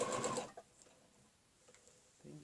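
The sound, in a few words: sewing machine stitching a quilting ruler pattern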